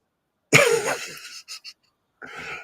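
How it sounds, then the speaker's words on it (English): A hoarse, heavy cough bursts out, followed by a couple of short rough hacks and a breathy throat sound, close and loud with no talking. "I'm not ill, but I've got a bad cough"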